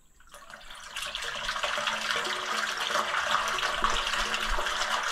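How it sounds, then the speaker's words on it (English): Water pouring from a pipe elbow onto fresh concrete in the base of a tire tank stock waterer, a steady rushing splash that starts abruptly and builds slightly in loudness throughout. "we're ready to do the final step, which is adding about 2 inches of water to the top."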